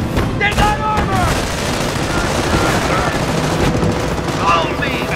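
Company of Heroes battle, a dense, loud barrage of machine-gun bursts and rifle fire with booming impacts that continues steadily, while voices shout orders over the gunfire.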